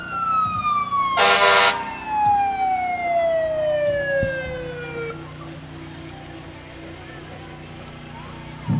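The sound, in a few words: fire engine siren at Christmas parade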